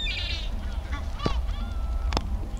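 Water birds honk and call at a city park lake in Porto, several short honks over steady background noise, some near and some farther off.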